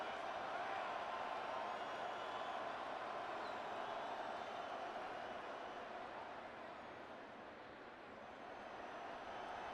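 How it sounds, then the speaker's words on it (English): A large stadium crowd at MetLife Stadium during a Patriots vs. Giants preseason football game makes a steady, distant roar that holds throughout, with no clear bursts or peaks. "This crowd turning up the decibel level"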